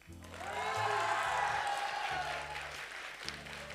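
Closing-ceremony audience of festival teams clapping for the staff, a steady, moderately close round of applause that swells early and holds, with faint voices and background music underneath.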